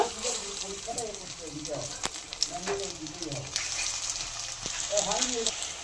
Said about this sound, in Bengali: এইবারে বড়াগুলো ভেজে নেব।